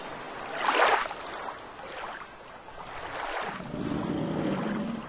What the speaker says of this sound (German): Wasser, sei leise